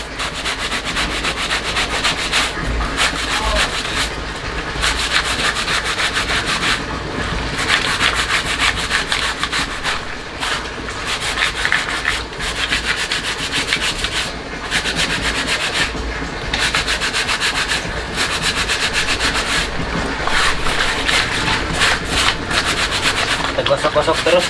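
A backpack is scrubbed by hand during washing, with repeated close rasping brush strokes in a steady back-and-forth rhythm and brief pauses between bursts.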